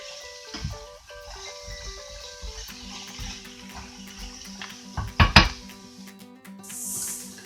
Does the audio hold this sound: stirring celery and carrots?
yes